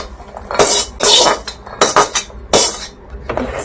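Fried rice scraped from a karai into a bowl, with a series of loud metallic scrapes and clanks of spoon against pan in uneven bursts, close up.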